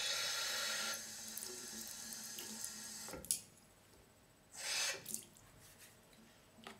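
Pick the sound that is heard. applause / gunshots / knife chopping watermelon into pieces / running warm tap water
running warm tap water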